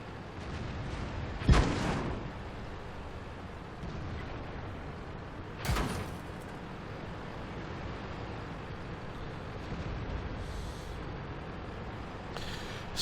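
Artillery fire in World of Tanks, two loud distant booms a few seconds apart over a low rumbling battlefield ambience.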